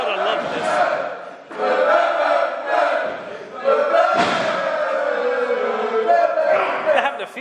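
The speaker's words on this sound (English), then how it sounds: "And the crowd are loving this." A wrestling crowd roars and shouts throughout, the loud cheering swelling and dipping with a few thuds and slams from the ring, while a commentator talks over it.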